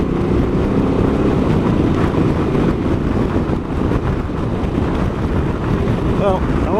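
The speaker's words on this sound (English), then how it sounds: "it's bloody windy as hell" Strong wind in the Yorkshire Dales buffets the microphone continuously, a loud, rumbling roar that stays steady throughout the clip.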